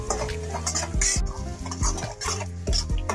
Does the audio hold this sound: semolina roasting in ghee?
yes